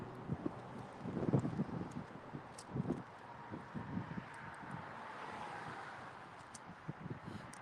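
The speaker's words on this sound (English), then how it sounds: "the wind coming from all the directions" Outdoor wind buffeting a microphone at a street-preaching spot, low rumbling gusts and pops that come and go irregularly, with faint background bumps.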